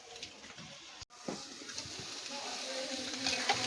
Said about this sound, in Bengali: আর কিছুক্ষণ এটাকে ভেজে নেব।